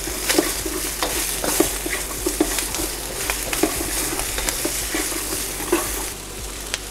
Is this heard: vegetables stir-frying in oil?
yes